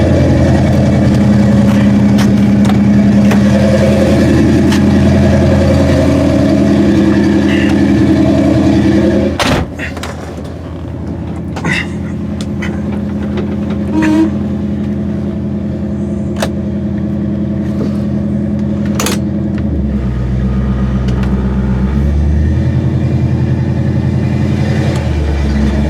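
A 1974 Pontiac Grand Am runs steadily on the road, its engine droning loud and close for the whole stretch, with a brief thump partway through and a deeper revving surge near the end.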